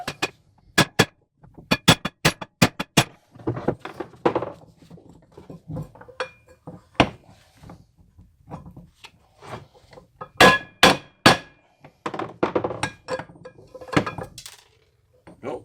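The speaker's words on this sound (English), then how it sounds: "now we'll flip it and pound it back the other way" Repeated hammer blows pound a U-joint back out of a 2000 Jeep Cherokee XJ axle, sharp metallic strikes in irregular bursts and clusters, loud and close with brief pauses between volleys.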